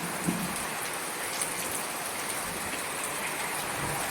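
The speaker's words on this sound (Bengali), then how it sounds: "ঝড় বৃষ্টি আরম্ভ হয়ে গেছে প্রচুর পরিমাণে বৃষ্টি হচ্ছে" Heavy rain pours down in a steady, even hiss, with occasional drops striking a surface nearby.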